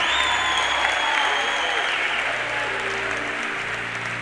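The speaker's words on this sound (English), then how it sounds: "Give yourselves a round of applause." An audience at a motivational speaking event bursts into sustained applause, dense clapping and crowd noise filling the whole stretch at close, loud level.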